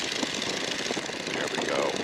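Radial engine of a Stearman N2S-3 biplane in flight, a steady loud drone with the power coming back in, constant and close with broadband rush throughout.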